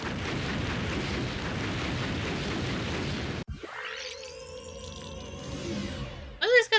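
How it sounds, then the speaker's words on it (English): A bomb detonating in the video game Raincode bursts as a loud, dense roar that cuts off abruptly, followed by rising electronic tones and sharp effects. "Bomb will detonate."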